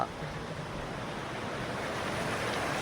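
A waterfall near a dam in Coorg, Karnataka, sounds as a steady broadband roar of falling water, constant and moderately loud, with no clear talk over it.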